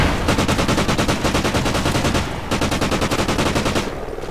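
Rapid automatic gunfire in the multiplayer video game Call of Duty Ghosts, a loud, dense stream of evenly spaced shots in two long bursts separated by a brief pause.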